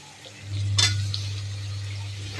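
Chicken pieces drop into a pan of frying onions and tomatoes, setting off a loud, steady sizzle that starts with a sharp splash and carries on close by without speech.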